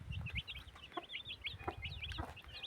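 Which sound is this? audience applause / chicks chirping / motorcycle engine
chicks chirping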